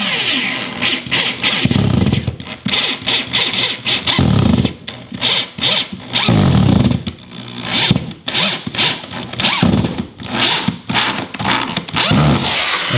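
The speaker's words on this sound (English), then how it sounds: "take your drill and basically just drill these into the actual wall studs" A cordless drill whirs in repeated short bursts, pausing between runs as screws are driven into wall studs to mount a climbing hangboard, with handling clatter in between.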